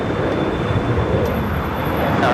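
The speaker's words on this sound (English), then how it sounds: "Looking like a south side takeoff" A jet airliner roars loud and steady while taking off from the south side runway at LAX, with a broad continuous engine rumble and a thin high whine holding throughout.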